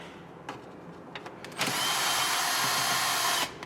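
A power tool whirs steadily for about two seconds, loosening a 10 mm bolt on a 2003-2007 Honda Accord during a windshield washer reservoir replacement, after faint clicks and handling noises.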